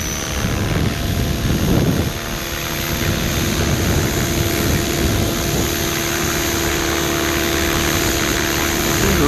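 A T-Rex 600 electric RC helicopter running on 12S spins up, giving a steady whirring motor whine and rotor hum, close and constant, with no talking.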